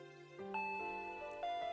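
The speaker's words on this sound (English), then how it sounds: "Ding dong." A doorbell chimes in the Higurashi visual novel game, two sustained tonal dings sounding clearly over soft background music with no talking.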